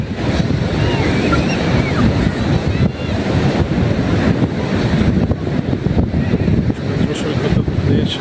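Sea waves break and wash onto the shore at Gopalpur beach in a constant surging roar, with wind buffeting the microphone throughout.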